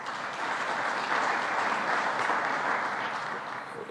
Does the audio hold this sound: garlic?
no